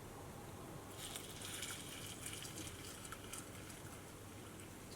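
Semi-skimmed milk, 200 ml, pours into a protein mix, a soft, faint splashing gush that starts after a second and runs steadily for a few seconds at close range.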